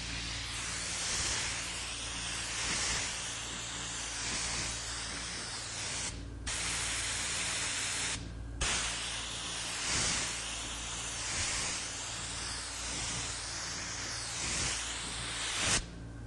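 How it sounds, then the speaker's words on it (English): A spray gun hisses out water-based dye onto pine wood in long, steady bursts, with two short pauses between passes, close and fairly loud with no talking. "about spraying a dye."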